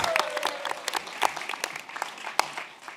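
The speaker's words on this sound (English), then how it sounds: "Clap for yourselves." A panel audience claps for themselves in a modest, uneven round of applause, individual hand claps standing out over a light crowd murmur, moderately quiet and fairly close.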